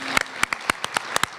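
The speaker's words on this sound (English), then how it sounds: "I want to start with a huge round of applause for my assistant, Nancy Ross Joint" A few scattered hand claps at an award ceremony, separate distinct claps in a quiet room rather than full applause.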